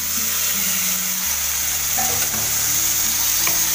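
Prawns frying with kokum in a pan sizzle loudly and continuously up close, a dense frying hiss with faint stirring movement and no talk.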